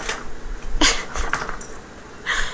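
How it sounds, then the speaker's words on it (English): A dog jumps onto the back of a chair, making a brief thump and rustle with a clink like jangling tags, heard close by and alone among quiet room noise. "That was my dog jumping onto the back of the chair."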